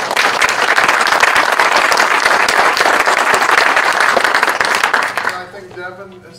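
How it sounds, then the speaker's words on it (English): A conference audience applauds a sponsorship program speaker named Matt, dense sustained clapping close and loud before it fades out near the end. "let's give Matt a round of applause"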